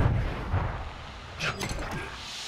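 Gunfire in an online battle-royale-style shooter game, including shotgun blasts, with a few sharp shots and booms amid rumbling background game noise.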